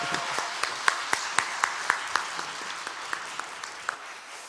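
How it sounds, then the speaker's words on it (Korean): A small group at a church teachers' lecture applauds, with sharp individual claps standing out at a steady rhythm over a softer bed of clapping. "다 같이 우리 박수치며 교수님 사랑합니다."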